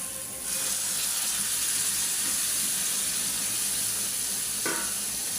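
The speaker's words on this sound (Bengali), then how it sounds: "এখন দিয়ে দিলাম ছোট মাছ" Small fish going into hot spiced masala in a pan set off a sudden loud, steady sizzle that fills the rest of the moment, with one brief clink partway through.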